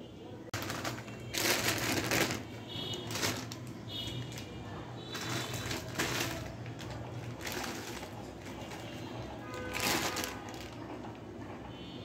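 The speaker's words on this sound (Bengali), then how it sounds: "আর একটু লবণ দিয়ে এখন বেটে নেব" Boiled bottle gourd seeds being ground with salt and chopped frozen coriander leaves, a steady gritty crushing and scraping that rises and falls in rhythmic bursts, close and fairly loud, continuing for several seconds.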